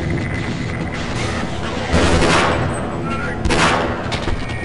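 Gunfire in the shooter game Half-Life, with two loud broadband bursts rising out of a busy game soundscape, one at about two seconds and one near three and a half.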